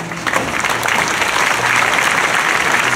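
Loud, close applause from a theatre audience at a performance, a dense and even wash of clapping filling the whole short stretch.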